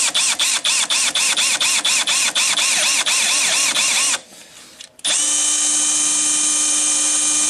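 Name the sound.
power drill drilling through broken screws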